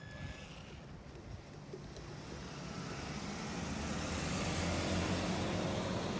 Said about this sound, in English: There's a Jeep passing by, so I'm gonna let him pass.